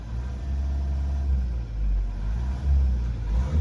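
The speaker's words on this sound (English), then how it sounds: "I feel a stutter in the car when I just hold it there at 1500 or" A Mazda 6 engine held at low RPM, around 1500 to 2000, with a boost problem and low power, gives a steady deep rumble that surges and dips unevenly, heard close up with no talk.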